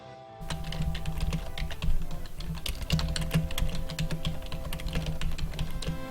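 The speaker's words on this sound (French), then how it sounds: "Je vous laisse apprécier le bruit de mon clavier." Rapid, continuous computer keyboard typing, close and crisp, with irregular keystroke clicks and a low hum beneath.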